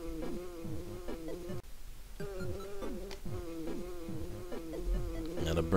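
A constant droning insect buzz from the video game EarthBound, a steady wavering hum layered with repeating game tones, running unbroken apart from a brief dip partway through.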